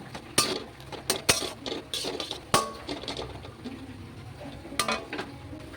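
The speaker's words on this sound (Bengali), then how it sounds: "দিয়ে খুব ভালো করে নেড়ে চেড়ে নিলাম" A spoon stirs potato mash filling for aloo chop in a pan, giving sharp scraping knocks and clinks at an irregular pace over a soft sizzle, close by, with no talk.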